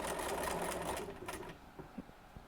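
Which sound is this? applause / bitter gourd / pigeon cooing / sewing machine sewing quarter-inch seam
sewing machine sewing quarter-inch seam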